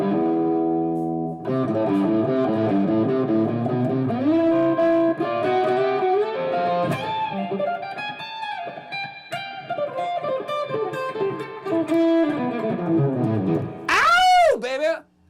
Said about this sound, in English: We got Spring Reverb.